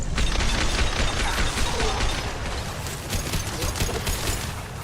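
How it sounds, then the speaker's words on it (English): Sustained gunfire aimed at rushing husks in Mass Effect 2, a dense, loud stream of rapid shots with no clear gaps, steady throughout and close. "I am firing into them."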